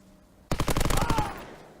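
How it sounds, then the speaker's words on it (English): A short burst of rapid close-range SMG fire in Call of Duty: WWII during an online tournament match, loud and dense for about a second before trailing off. "Simp and Cellium with the SMGs at close"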